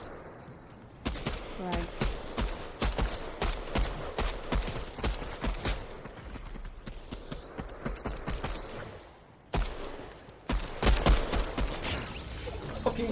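Rapid, repeated pistol shots in a shooter game ring out in steady bursts over several seconds, with a short pause before firing resumes, and someone speaks briefly.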